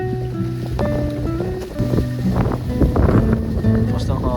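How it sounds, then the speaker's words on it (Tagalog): Strong wind gusting at a mountain campsite in an ecopark, rough blustery rush buffeting the microphone, with people talking over it. "Basta hangin guys dito."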